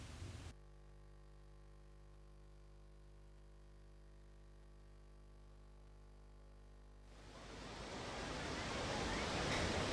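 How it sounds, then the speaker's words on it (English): Hukou waterfall on the Yellow River in China, swollen with ice melt, roaring as a broad, steady rush of falling water that builds louder toward the end after a quieter hum. "The ice that froze up the Hukou waterfall has melted down in rising temperatures, enabling China's second longest river to roar once again."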